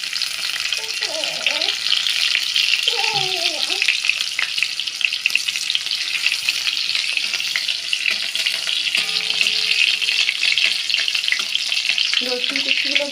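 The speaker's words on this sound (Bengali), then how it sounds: "রসুন কুচিগুলো ভালো করে লাল লালভাবে ভাজা হবে" Chopped garlic frying in hot mustard oil, a loud, continuous close sizzle throughout, with brief bits of speech over it.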